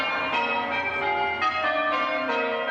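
Church bells ring in a steady, overlapping peal in Stockbridge, each new strike landing over the hum of the last, loud and close with no voices.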